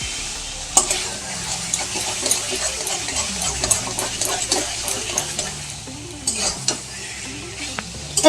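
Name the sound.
stirring taro leaves with hilsa fish head in a pan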